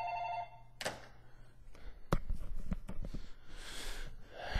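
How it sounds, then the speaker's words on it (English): A telephone rings in a room with a steady repeating electronic tone at first, then handling thumps, clatter and rustling follow as the phone is picked up. "my damn phone is ringing"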